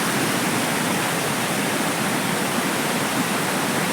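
Water crashes down a village waterfall at Panhali in Konkan as a dense, constant rushing roar. It fills the whole sound, loud and close, with no voices.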